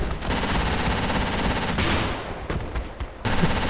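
Rapid automatic gunfire in the military shooter Project Reality, a dense continuous fusillade of overlapping shots with a few brief gaps near the end, loud and close with no voices.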